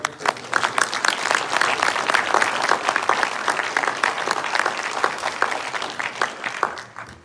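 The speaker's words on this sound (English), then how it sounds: "let's sign. just give a great round of applause to our director." Crowd at a healthcare panel discussion during a legislative summit applauds the director, loud continuous clapping for about seven seconds that fades at the end.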